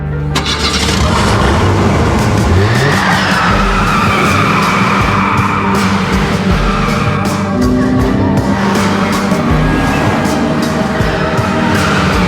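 A Ford Focus Fastback drives hard and skids, its engine note and tire noise running loud and continuous for the whole stretch, with squeals rising over the revving.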